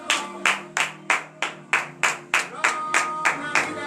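Congregation clapping in unison at a morning prayer service in Comè, Benin, about ten sharp claps in a steady rhythm, close and fairly loud, with no talking over them.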